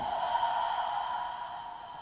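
Steady, hushed breath flows in and out during a guided relaxation exercise, a continuous airy exhalation lasting about two seconds, close and soft with no talking.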